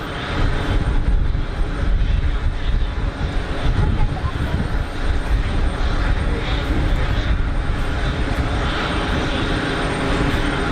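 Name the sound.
Pilatus PC-12 aircraft arriving at Geneva Airport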